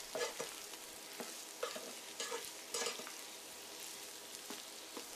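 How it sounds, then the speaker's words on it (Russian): Eggplant sizzles steadily in a hot pan over medium heat while a utensil scrapes and stirs at irregular intervals, fairly quiet and close. "Помешивая, обжариваю на средней мощности плиты, пока зарумянится."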